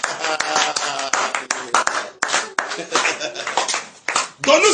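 A church congregation applauding, dense fast clapping with a voice speaking over it, rising and falling in waves with brief dips.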